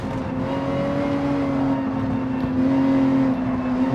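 Porsche 911 GT3 race car in the Gran Turismo 7 video game, its engine holding a steady, loud droning tone as it accelerates, the pitch lifting slightly near the end, with no talk over it.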